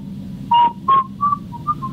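A person whistles a short, wavering tune-like phrase in a few separate notes, imitating an eerie whistle heard at night on a remote island. The whistle is close and clear over a low background hum.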